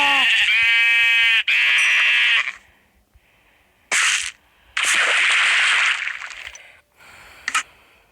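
Several Minecraft sheep bleats, loud and close, come in a quick run at the start, followed by further bleating bursts with short gaps between them and no talk.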